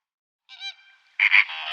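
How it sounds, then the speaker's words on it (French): A flamingo gives a few loud, nasal, goose-like honks, a shorter call followed by two stronger close blasts, with nothing else audible around them. "Flamand."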